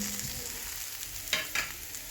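Turmeric, coriander and cumin powders with ground spice paste fry in a pan for a ridge gourd, potato and rohu fish curry, a dense continuous sizzle with two sharp spatula scrapes near the end, no talk.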